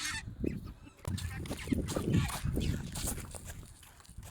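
A flock of about thirty turkeys on a farm calls in a dense, overlapping chorus of honking gobbles, steady and moderately close throughout.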